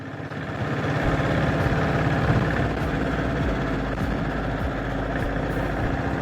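A 1976 diesel Bullet motorcycle engine idles nearby with a steady low, rapid thumping throb that holds an even level throughout.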